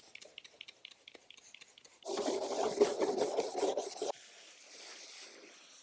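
Dirty plastic under tray from a BMW being scrubbed clean: soft intermittent rubbing strokes, then a steady louder stretch of rasping scrubbing for about two seconds, followed by quieter brushing, close and alone.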